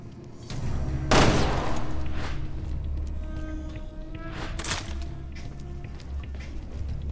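Gunfire in the survival-horror game Resident Evil Revelations 2: a sharp, loud shot opens a steady roar of in-game noise, with another shot and scattered impacts following over a low, constant background.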